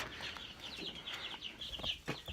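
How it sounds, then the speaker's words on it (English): Busy chorus of high chirping peeps from many chicks, continuous and overlapping, close by, with a few soft rustles underneath. "all the baby chickens"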